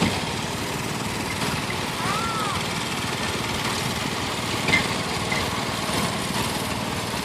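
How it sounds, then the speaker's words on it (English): A 1943 Farmall A tractor engine running steadily during a power parade, a continuous moderate drone with a faint high whine and light voices in the background. "Our next tractor up in line is a 1943 Farmall A, owned by Ken Campbell out of Springer, Oklahoma"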